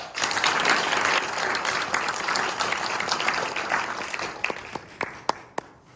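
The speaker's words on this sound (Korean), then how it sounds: "박수 한번 보내십니다" Church congregation applauding at a retirement and ordination service, a loud burst of many hands clapping that gradually thins out, ending in a few scattered, distinct claps near the end.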